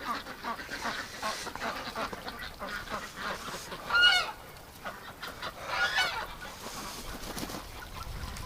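A chocolate-coloured duck calls outdoors on a winter day near water, a few honking quacks rising over steady background noise, with one louder burst midway and another later.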